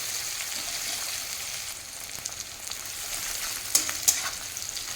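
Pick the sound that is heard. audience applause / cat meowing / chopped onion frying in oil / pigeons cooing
chopped onion frying in oil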